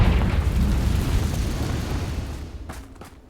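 A Confringo spell blast in Hogwarts Legacy: one loud, booming explosion that rolls and slowly fades over a few seconds, followed by a couple of faint clicks.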